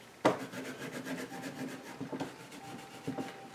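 A rubber stamp scrubbed clean on a Stampin' Scrub pad makes close, dry rubbing and rasping strokes, opening with one sharper scrape and followed by softer repeated rubs, with no voice over it.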